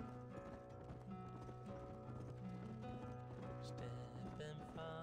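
Horse galloping in Red Dead Redemption on PS5, a steady run of hoofbeats over a continuous game music score, with a brief whinny possible near the end.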